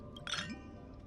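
Glasses clink in a toast during a scene in Honkai: Star Rail, one short bright chime that rings briefly and fades, fairly quiet over a low background.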